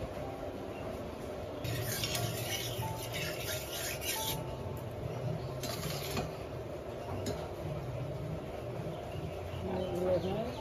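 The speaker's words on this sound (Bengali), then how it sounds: "লবণ আর হলুদ দিয়ে মাছগুলো সুন্দর করে মেখে নিচ্ছে" Small tengra fish being rubbed and mixed by hand with salt and turmeric, a steady close wet rasping and squelching that carries on without pause, with a faint hiss and a few brief scrapes now and then.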